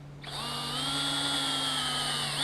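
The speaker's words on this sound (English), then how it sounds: "this is a right angle drill" A right angle power drill with a 3/16 inch bit spins up after a brief pause and runs steadily with a loud, constant whine, boring into wood while fitting a 2x4 gate hinge.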